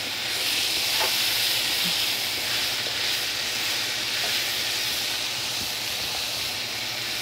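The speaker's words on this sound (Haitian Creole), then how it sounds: "The goal is to stir fry it." Ingredients for Haitian soup joumou stir-fry in a pot, giving a loud, continuous steamy hiss close by, with a few faint clicks of stirring and no one speaking.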